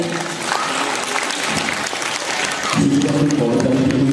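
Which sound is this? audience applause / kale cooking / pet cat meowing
audience applause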